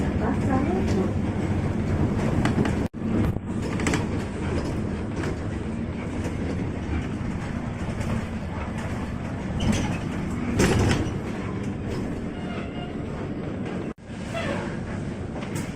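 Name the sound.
commuter train running alongside, heading to Manggarai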